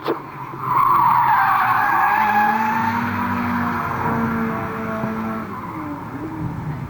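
A front-wheel-drive race car spins donuts at an oval raceway, its tires skidding and squealing loudly and continuously over a steady engine drone, with no talk.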